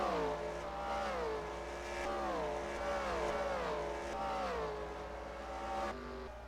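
Race cars in a racing video game on the Phoenix track roar past in a steady run of loud flybys, each engine note rising and then falling in pitch as the cars overlap one after another.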